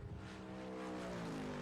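A Backdraft Cobra race car drives through Rifle Corner on a racing circuit, its engine a steady, droning roar that holds close and fairly loud for a moment, with a faint hint of tire scrub.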